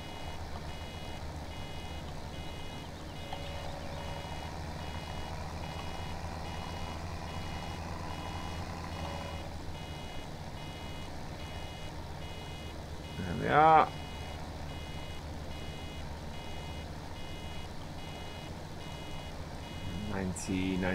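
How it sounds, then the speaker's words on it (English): Reversing beeps from a vehicle in Farming Simulator 17, heard as a steady electronic tone running under continuous engine drone. A short, louder clatter comes midway and another near the end. "I think the beeping starts earlier on this version"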